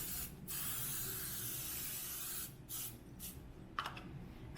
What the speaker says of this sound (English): So I just like spraying butter on top.